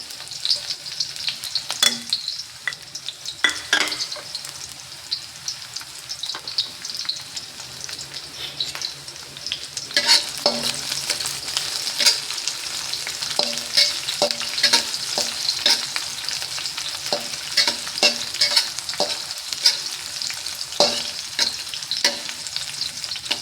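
Garlic and onion sautéing in a pan for beef caldereta, a steady close sizzle with repeated scraping and stirring clicks throughout, no talking.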